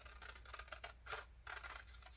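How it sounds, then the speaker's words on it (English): Scissors snipping through paper strings on junk mail envelopes, several close, crisp cuts in an irregular rhythm, quiet and with no talking. "I'm going to do this with my scissors now"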